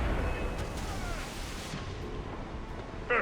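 Cannons roaring from a sailing warship in an Assassin's Creed Rogue sea battle, with a heavy blast up front that rolls off into a lingering rumble, then a brief sharper crack near the end.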